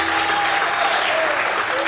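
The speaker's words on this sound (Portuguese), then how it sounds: "Aplauda!" Church congregation applauding during a sermon, loud continuous clapping filling the room, with sustained organ or keyboard tones underneath and a voice faintly present.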